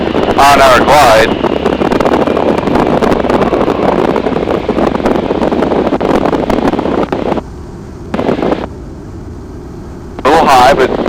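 A Super Cub's engine pulled back to reduced power for a 60 mph glide toward the Lockhart runway gives a steady cockpit drone with wind rush, under almost continuous talk over the intercom.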